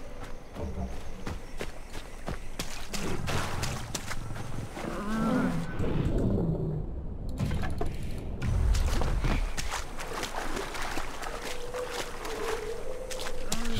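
In the video game Far Cry Primal, a tiger growls and snarls amid running footsteps and rustling. The wild-animal sounds are loud and continuous throughout.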